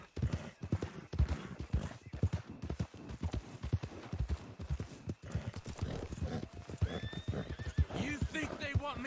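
In Red Dead Redemption 2, hooves clip-clop in a steady rhythm while a horse whinnies toward the end, with people talking over the hoofbeats.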